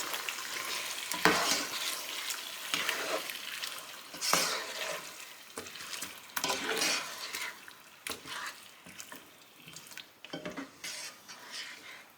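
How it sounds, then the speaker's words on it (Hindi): Chicken korma ingredients stirred together in a pan with a spoon, a steady sizzle of frying under repeated scraping and clinking strokes, close and fairly loud with no talk. "और सारी चीज़ों को अच्छी तरह से मिक्स कर लेंगे।"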